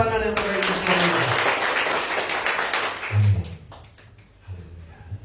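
A church congregation applauds loudly for a few seconds, a dense wash of clapping that fades out, followed by a voice speaking over the quieter room.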